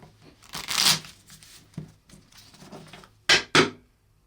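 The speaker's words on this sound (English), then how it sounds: "the feel of shuffling Magic cards without sleeves" Unsleeved Magic: The Gathering cards being shuffled by hand, bursts of riffling and crisp snapping, with a long ruffle early on and two sharp close riffles near the end.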